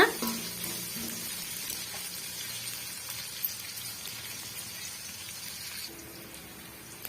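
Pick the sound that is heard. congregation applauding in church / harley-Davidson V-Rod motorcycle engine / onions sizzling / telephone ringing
onions sizzling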